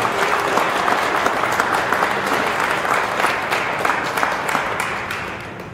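Audience applause at a Sudbury public transit funding announcement, a loud, continuous wash of many people clapping, steady and even across the whole stretch with no speech on top.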